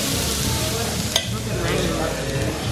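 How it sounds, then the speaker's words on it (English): Steady, close crackling sizzle of steak frying in a hot pan aboard the Symphony of the Seas cruise ship, with a brief clink partway through and no talking. "Look at it cook, look at it sizzle."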